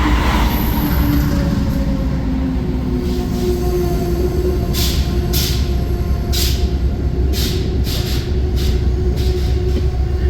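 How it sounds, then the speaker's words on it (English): Amtrak 281 passenger train arriving at Poughkeepsie station, a loud continuous rumble of rolling railcars with drawn-out wheel squeals and repeated metallic clacks, close by and steady throughout. "our train back home, Amtrak 281,"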